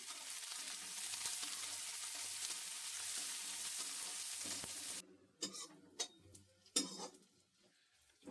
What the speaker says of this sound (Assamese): আৰু পিঁয়াজখিনি এতিয়া ৰঙচুৱাকৈ ভাজি ল'ম।